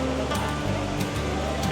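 A small indoor waterfall inside a Dubai building gives a steady rushing wash of falling water, heard close under faint background hum and indoor bustle.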